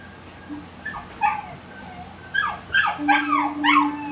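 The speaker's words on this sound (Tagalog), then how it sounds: "Pasensyahan nyo na po yung aso" A dog close by gives short high yips and whiny whimpers, growing more insistent toward the end, with a steady low hum underneath.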